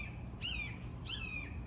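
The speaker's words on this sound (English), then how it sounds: "Like that bird right there making that sound." An unseen bird gives two clear, descending whistled calls about half a second apart, moderately close, over a low steady background rumble.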